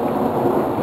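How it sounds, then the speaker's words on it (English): Thunderstorm with rain and thunder: a loud, steady low rumble mixed with the dense hiss of falling rain, heard briefly with no pauses. "Still raining and a little bit of thunder"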